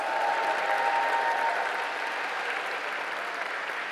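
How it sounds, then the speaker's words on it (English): Applause from the audience at an awards gala, a continuous wash of clapping that starts fuller and settles slightly softer, heard alone at moderate distance with no talking. "Let's give them another round of applause."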